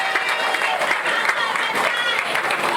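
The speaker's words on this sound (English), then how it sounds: "we have to give another round of applause for the future member of Parliament for San Fernando East." A crowd applauding at a political rally in Cocoyea Village, San Fernando, Trinidad, a dense, steady wash of clapping close and loud with some crowd noise and voices mixed in.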